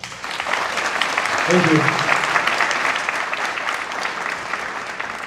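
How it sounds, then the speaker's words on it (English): Sustained applause from a conference audience, a broad wash of clapping that swells and holds steady, with someone briefly speaking over it partway through. "Let's give another round of applause."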